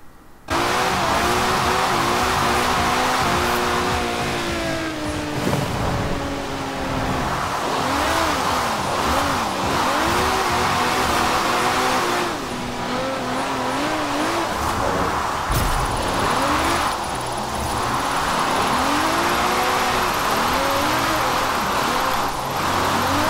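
A 1987 AMG Hammer with an AWD drift tune roars continuously in Forza Horizon 4, its engine revving up and down while the tires squeal through long slides, loud and close throughout.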